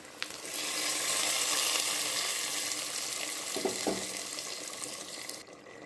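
Liquid poured into a pan of Kerala-style vegetable kurma, a steady broadband wash of sizzling and trickling that fades out at the end, with a brief stirring clatter partway through and no talk.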